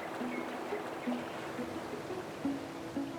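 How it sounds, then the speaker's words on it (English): Water spilling over a labyrinth weir back into a river gives a steady, broad rushing wash with no break. It carries a few faint tonal hums and sounds moderately distant. "The first of our side spool weirs, which is the labyrinth weir, its job is to spool any water that we don't use and flood water back into the river."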